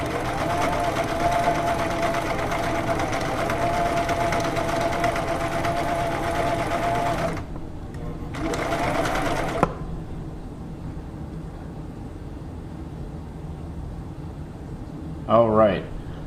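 A Viking 6360 sewing machine stitches in a steady, rapid mechanical whir for about seven seconds, pauses, runs again briefly, then falls quiet to a low hum and a small click.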